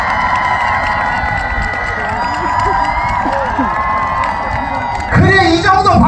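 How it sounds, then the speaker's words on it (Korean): An outdoor crowd at the Hamyang dried persimmon festival cheers and claps steadily, whoops and voices mixed in, swelling into a louder burst near the end. "그래, 이 정도 박수 소리가 나와야지."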